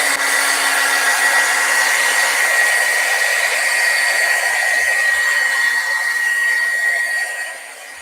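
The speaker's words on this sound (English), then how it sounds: "and use my heat tool." A handheld craft heat tool blows hot air to dry paint splatters, a steady loud whooshing hiss that holds for about seven seconds before easing off at the end, with no talking.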